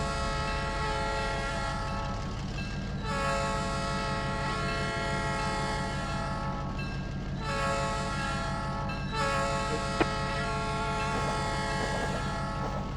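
A diesel locomotive in the Trainz 19 simulator sits in notch 3 with the reverser centered, load-testing at an industrial park: a loud, steady engine drone with a heavy rhythmic throb and a whining pitch that swells and fades in cycles.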